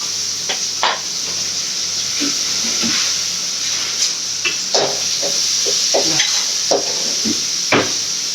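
Onions frying in a pan for a Sunday chicken curry, a steady loud hiss of hot oil with scattered crackles and pops and occasional stirring clinks, close by.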